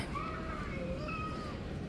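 A cat meows in a couple of drawn-out, wavering calls, moderately close, over a steady low background hum.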